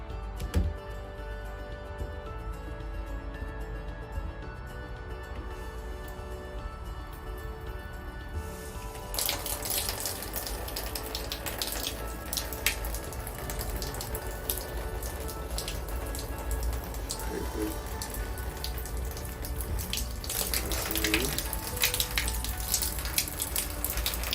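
Water pouring and splashing steadily into an indoor koi pond tank, a continuous rushing hiss that grows louder and fuller partway through, close and without speech.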